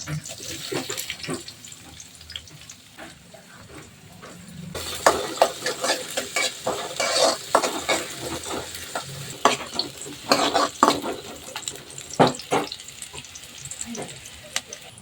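Chopped garlic and onion fry in hot oil for vegetable fried rice, a close, continuous sizzle. The hiss grows louder and crackling partway through as the pieces are stirred, with repeated scraping clinks.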